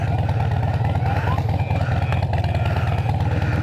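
A loud Harley motorcycle engine idles nearby with a steady low throbbing rumble, running continuously throughout.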